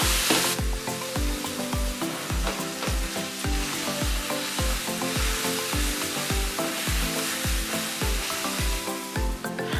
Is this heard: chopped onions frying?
yes